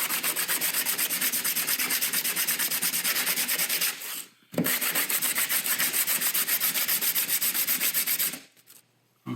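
Hand sanding a molded J-B Weld epoxy adapter block with sandpaper, steady rapid back-and-forth rasping strokes, loud and close, with two brief pauses.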